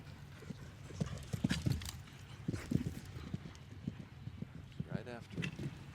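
Horse hooves clip-clop on the footing of a show jumping arena during a jump-off at a major grand prix, a quick uneven gallop rhythm of hoofbeats with a brief whinny, while an announcer talks over it.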